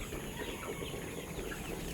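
Chickens that have caught a mild chill and lost their appetite cluck softly in a steady, continuous murmur, a flock close by with low rustling throughout.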